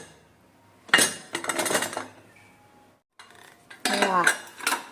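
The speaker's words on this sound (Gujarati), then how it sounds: "કુકર ગરમ છે, ખોલવાનું જ છે." A hot pressure cooker holding khichdi is opened, giving two bursts of close, sharp metallic clinking and rattling separated by a brief silence.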